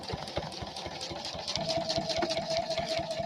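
A sewing machine stitches along a quilting template in a steady, fast run of close, even needle thumps over a continuous motor whir, with no talking.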